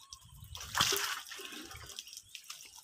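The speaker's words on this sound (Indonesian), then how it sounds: "Nah ini kita siram pakai air bersih ya." Clean water poured over leaves being rinsed during cooking prep, a splashing pour that swells briefly then settles into softer trickling and drips.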